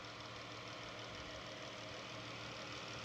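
A modified car engine with a Mishimoto Racing part and Royal Purple oil idles quietly, giving a low, steady hum with faint even knocking, close by and unbroken, with no voices.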